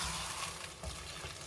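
Diced tomatoes go into a Ghana stew sizzling in a pan, giving a steady frying hiss with soft stirring scrapes and a small clink at the end.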